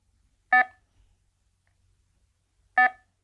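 Two short electronic beeps from a bite alarm, spaced about two seconds apart, clear and close in an otherwise quiet setting.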